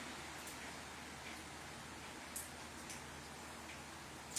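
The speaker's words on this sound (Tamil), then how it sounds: "மழை பெய்யுற சத்தம் கேட்குதா" Steady rain falling, a soft continuous hiss with a few faint drips and taps over it, heard alone without talk.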